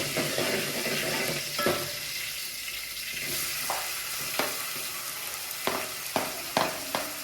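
Whole spices and black cardamom sizzle in a hot pan under a continuous hiss, broken by several sharp scraping clacks of a spoon stirring against the metal, with no talking.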